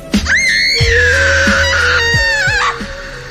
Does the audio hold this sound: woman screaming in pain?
yes